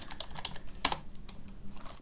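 Rapid keystrokes clatter on a computer keyboard during a live coding session, with one sharper, louder key press near the middle amid the steady tapping, close and without speech.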